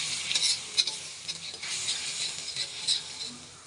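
Turmeric, chilli powder, cumin, nigella and five-spice mix sizzle in hot oil for a pumpkin and fish curry, a steady crackling fry with light stirring taps, close and continuous with no talk.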